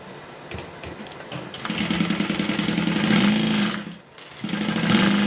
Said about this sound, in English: Sew that down.